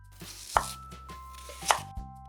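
Knife cutting firm, well-grown onions on a board for onion kimchi, two sharp chops standing out among a few lighter taps, close and clear with no talking.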